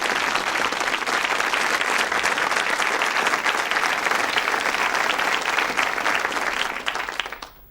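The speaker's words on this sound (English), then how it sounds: "Let's have some applause for the suspects." A 1974 television game show studio audience claps steadily, dense and loud from the start, then fades out near the end.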